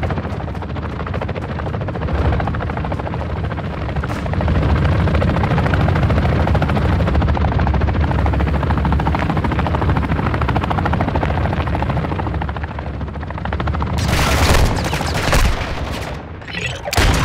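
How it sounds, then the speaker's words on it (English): A military helicopter in the video game DMZ thunders close overhead with a loud, continuous rotor roar, while bursts of gunfire break in toward the end. "Hey, they're dropping dudes right there. The helicopter."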